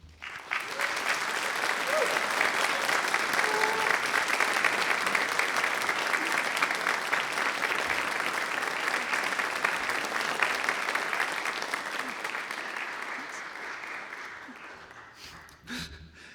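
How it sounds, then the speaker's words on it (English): Graduands at a University of Aberdeen winter graduation ceremony give a long, loud, sustained round of applause from a large hall crowd, steady for most of the stretch before tapering off toward the end. "give a huge round of applause and thanks to acknowledge those of you who have helped you get here"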